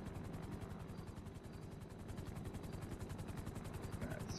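In GTA 5 a helicopter approaches, its rotor thumping in a fast, even, pulsing chop that stays faint and steady throughout, alone.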